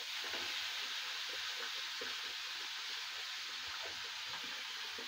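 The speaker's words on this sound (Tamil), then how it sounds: "ஒரு நிமிஷம் ஃப்ரை ஆகட்டும்ங்க." Paneer cubes fry lightly in a pan for kadai paneer, giving off a steady, soft sizzle that holds evenly from start to finish with no voices over it.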